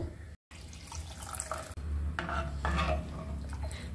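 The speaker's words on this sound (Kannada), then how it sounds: "ಎಷ್ಟು ನೀರು ಬೇಕು ಅಷ್ಟು ನೀರು ಹಾಕೊಂಡು ಅಡ್ಜಸ್ಟ್ ಮಾಡ್ಕೊಳ್ಳಿ." Water splashes and runs into a metal pot, with clinks of cookware against a steady kitchen background.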